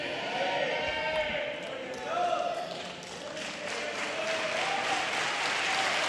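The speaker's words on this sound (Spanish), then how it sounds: "dele un fuerte aplauso de gloria al que vive" A congregation at a church service claps in sustained, moderately loud applause that swells and ebbs, with a voice speaking over it.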